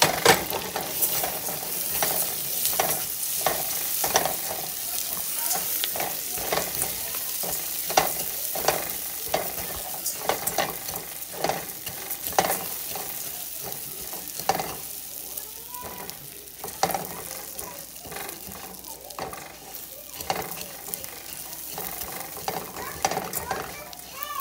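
Orzo toasts in butter and oil in a pot, crackling and sizzling close up while a spoon scrapes and clacks through it in a busy, irregular stirring rhythm, with some faint talk in the background.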